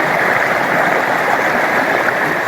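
A small stream rushes and gurgles beside a hiking trail on the Split Rock Ridge Loop, a steady close wash of flowing water with no voices.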